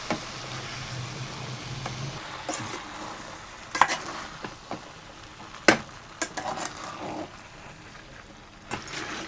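Lentils frying in a sambar tempering in a pan, giving a low continuous sizzle with scattered sharp pops and clinks of a utensil, close up and with no talk.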